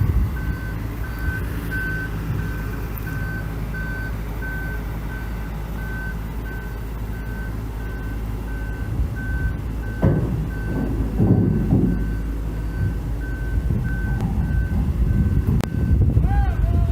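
A truck's reversing alarm beeps steadily in a regular pulse over low engine rumble and wind, with a few scattered clunks toward the end.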